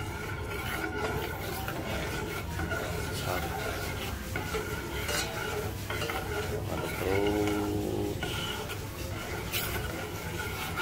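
Coffee being stirred in a cooking pot, with repeated scraping and clinking of a utensil against the metal under a steady kitchen hum, while a voice talks over it.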